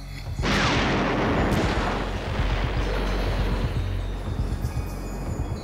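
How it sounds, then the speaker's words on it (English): A tank's main gun fires one heavy, close, loud boom that rolls into a long rumbling echo lasting several seconds. "Fire the gun!"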